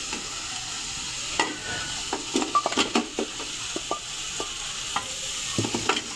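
Beef pieces sautéing in gravy for yakhni pulao, a soft steady sizzle under repeated spoon stirs and clinks against the pot, with no talking.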